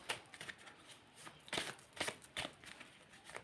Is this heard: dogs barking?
no